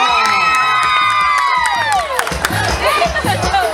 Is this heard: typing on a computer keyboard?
no